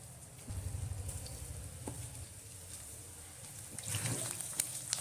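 Onion and potato pakoras deep frying in hot oil, a steady dense sizzle with bubbling crackle throughout, swelling louder near the end as more batter hits the oil.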